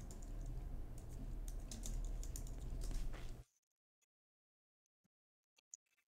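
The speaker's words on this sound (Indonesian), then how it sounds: "Coba kalau saya ketik nama saya kira-kira apa yang terjadi." A person types a name on a computer keyboard in a rapid, steady run of close key clicks for about three seconds. A few isolated faint clicks follow in near silence.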